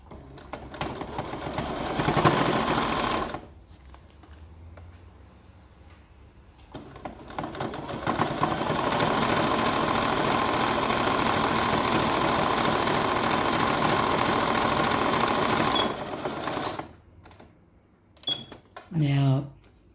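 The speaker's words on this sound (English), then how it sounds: "Now we'll overlock that and we'll do the other side" An overlocker runs along a T-shirt seam at the sleeve edge, sewing right sides together in a steady, close mechanical whir for long stretches, broken by pauses and a few short bursts near the end.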